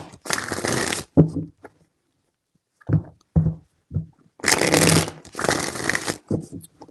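Tarot cards are shuffled close up in several brisk riffling bursts, each a dense papery flutter lasting about a second, broken by soft taps, pauses and a few quiet murmured words.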